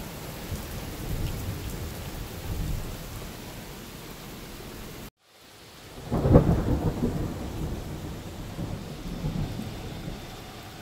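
A thunderstorm with rain: constant hiss of rain, a brief dropout midway, then a deep thunder crack and rolling rumble that swells and settles back into the steady downpour.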